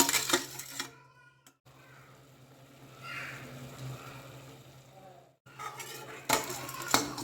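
Coconut milk and curry leaf kheer being stirred in a metal pot, with soft scraping and light clinks of a spoon against the pot that fade in and out under a steady low hum.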